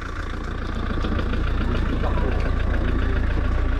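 A canteen vehicle's engine runs steadily with a low, continuous idling rumble at a charity running race, holding even and fairly loud throughout, with faint background activity and no clear speech.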